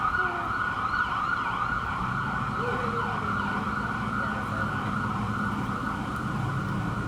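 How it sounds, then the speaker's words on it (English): An ambulance siren wails loudly and steadily as it passes along a city street in Macon, a constant wavering tone over road traffic rumble for the whole stretch. "Wait for the ambulance to clear just a second."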